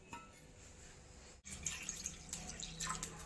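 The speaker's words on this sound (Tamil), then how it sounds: "தண்ணி ஊற்றிக்கலாம்." A cup of water is poured onto sugar and ghee in a pan, giving a faint, steady trickle with splashy bursts after a brief pause, recorded close by.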